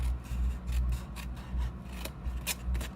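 Scissors snipping through a paper box flap being cut off for a stamped snowflake box, a run of close, rasping cuts in steady rhythm with a few sharper snips near the end, no talking.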